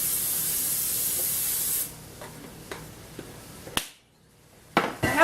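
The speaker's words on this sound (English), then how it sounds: "I'm just going to spray it with a little coconut oil spray." Coconut oil cooking spray hisses steadily onto torn kale for kale chips in a small kitchen, one continuous close spray lasting under two seconds, followed by a few quiet taps and clicks.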